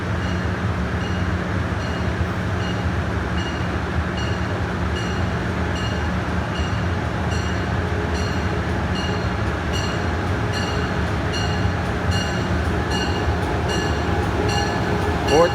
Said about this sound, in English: Finally, the train is showing up at 4:24.